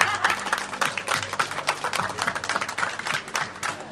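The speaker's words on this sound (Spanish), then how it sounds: "Le aplaudimos" A crowd of guests applauds outdoors at a wedding ceremony held in the street, producing a busy, crackling patter of many hands clapping at once that stays loud and continuous.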